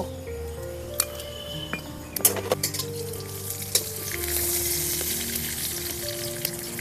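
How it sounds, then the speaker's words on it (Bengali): Cumin, panch phoron, dried chili and whole garam masala fry in hot oil, giving a steady close sizzle with a few clinks from stirring and a brief burst of crackling partway through. "তেলটা গরম হয়ে গেছে আর আমি এর মধ্যে কিন্তু জিরে পাঁচফোড়ন মরিচ আর গোটা গরম মশলা কিন্তু ভেজে নেব"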